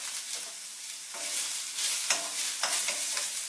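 Food stir-fried in a seasoned wok gives a bright continuous sizzle, broken by a few distinct scrapes and taps of a spatula against the metal, close and with no talking.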